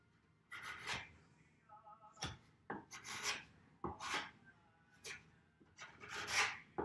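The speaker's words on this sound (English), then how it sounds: "You want to scrape off all the excess there" Hard scraping strokes of a putty knife clearing excess wood filler off a furniture surface, several rough rasping passes in an uneven rhythm, close and fairly loud with brief pauses between strokes.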